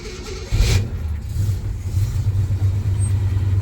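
A car engine fitted with FiTech 2-barrel fuel injection cranks and catches on a cold morning around 35 degrees, then settles into a steady low idle rumble, close and loud, with no talking.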